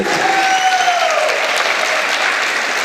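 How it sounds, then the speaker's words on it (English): An audience at a college Onam celebration applauds steadily and loudly, a dense sustained wash of clapping hands with a few faint voices mixed in. "You also clap."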